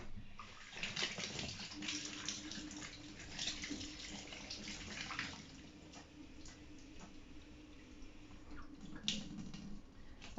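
Tap water runs steadily over fresh asparagus spears being rinsed at a kitchen sink, a continuous soft splashing rush with small drips and handling noises, fairly close and with no talking.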